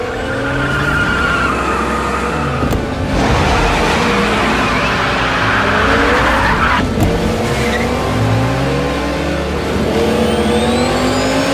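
Race cars skid hard through a heated two-car race staged for a short film, with continuous loud tire squeal and roaring, revving engines close by for the whole stretch.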